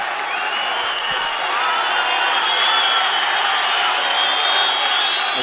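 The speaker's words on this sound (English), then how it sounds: "The crowd pushing, cheering, roaring on Amagov." Arena crowd at a mixed martial arts fight roars and cheers continuously, a dense, loud wash of voices swelling slightly and holding steady throughout without pause.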